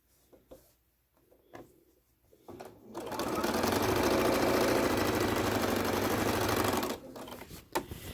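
A sewing machine stitching quilt binding strips together runs in one steady, loud mechanical whir for about four seconds, after a few quiet handling taps and before a brief stop.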